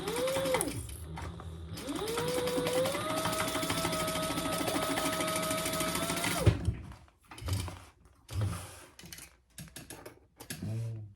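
Sewing machine stitching a boxy bag closed, heard as a steady motor hum with fast rhythmic needle clatter for several seconds, a short pause, then a few brief bursts of stitching with clicks and handling noise.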